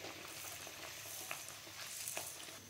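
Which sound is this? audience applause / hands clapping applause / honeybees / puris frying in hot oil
puris frying in hot oil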